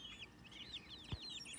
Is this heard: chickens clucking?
yes